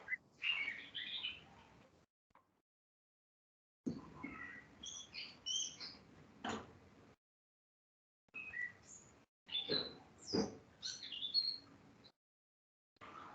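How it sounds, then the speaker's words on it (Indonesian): Small birds chirp and tweet in quick bright bursts around a house, close and clear, broken by several short silences. "Wah, di rumahnya banyak burung ya."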